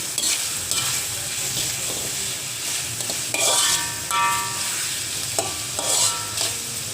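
Chicken bones sautéed with salt in a pan sizzle steadily while a spatula scrapes and stirs them in repeated strokes, close and fairly loud, with no voices.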